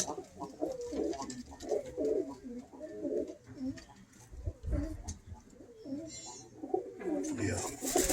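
Pigeons coo repeatedly at close range in a loft, with soft rhythmic calls running throughout and people chatting quietly in the background.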